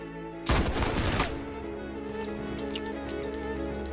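A short, loud burst of gunfire from a World War II combat film cracks out in rapid succession for under a second, then gives way to a lingering noisy rumble.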